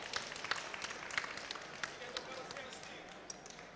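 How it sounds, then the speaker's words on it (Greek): Applause for a chef at a Mediterranean gastronomy forum during a food expo, a thin smattering of claps under a presenter's voice. "Πάμε και ένα χειροκρότημα για τον σεφ ακόμα."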